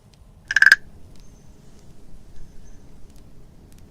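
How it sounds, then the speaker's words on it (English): A single short frog croak sounds near and fairly loud, then gives way to a faint, quiet background during a Halloween potion-and-spell ASMR roleplay. "Is anyone else hearing the frog?"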